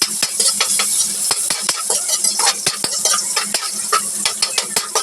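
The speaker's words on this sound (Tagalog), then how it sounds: "magigisa tayo ng bawang sa ating kawaling nag-iinit" Garlic and onion sizzle in a hot pan while a utensil stirs and scrapes with quick, rhythmic clinks, close and fairly loud, no talk.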